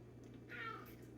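A house cat gives a single short, faint meow from close by in a quiet indoor room with a low steady hum behind it.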